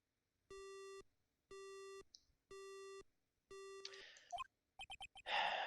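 Telephone busy signal in the Phoenix Wright: Justice For All video game: four evenly spaced steady beeps, each about half a second long, followed by burst-like game sound effects and a noisy whoosh. There is no talking.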